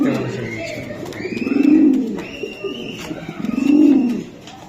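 Two swelling rounds of low pigeon cooing come from racer pigeons, close by, while someone talks over them throughout.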